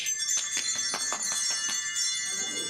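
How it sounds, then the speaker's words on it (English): A handheld bell rings in a rapid run of about eight bright, metallic strikes, fairly close and clear, then fades into a ringing tail with no talk over it. "Hold your bell and watch him."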